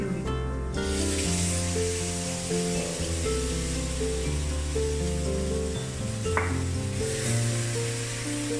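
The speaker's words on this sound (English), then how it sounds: "And now I'm going to add a cup of tomato puree." Tomato puree sizzles and hisses steadily in a hot pan for egg bhurji, a close continuous frying sound with a brief stir or clank near the end and no talk.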